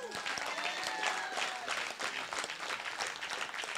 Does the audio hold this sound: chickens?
no